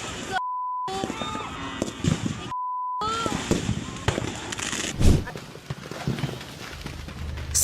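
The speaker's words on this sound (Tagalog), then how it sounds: "Kinukunan lang ng video ang nagpuputokang fireworks na yan" Fireworks going off at New Year's in Antipolo City after rows of firecracker stalls caught fire: scattered sharp pops and one louder bang, heard under steady talking and two brief electronic beep tones.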